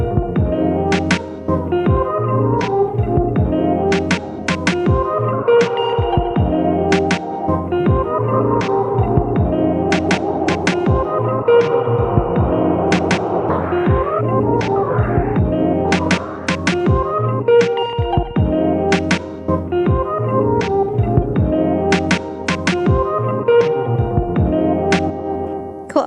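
Lo-fi beat with delay and reverb effects on it, punchy repeating drum hits over warm sustained chords and echoing tails, steady and loud with no voices.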